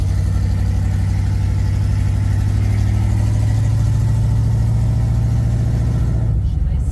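Classic pickup truck engine running steadily with a strong low drone at constant pitch, close and loud, easing off at the very end.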